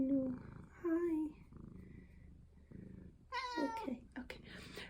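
Pumpkin, a pet cat, gives several loud meows with a purr underneath, close by, with brief human talk mixed in.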